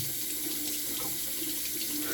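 Water runs steadily from a tap into a sink, a constant close hiss with no talk over it.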